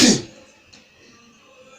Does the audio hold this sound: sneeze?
yes